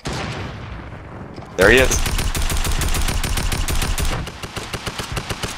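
Rapid automatic gunfire in a duo video game match bursts in after a brief voice and then hammers on in a dense, loud stream before breaking into separate spaced shots.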